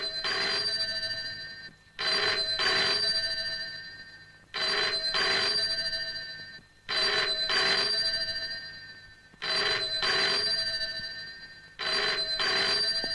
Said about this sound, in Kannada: ಈ ಟೆಲಿಫೋನ್ ಗಂಟೆ ಮುಳುಗ್ತಾನೇ ಇರಬೇಕು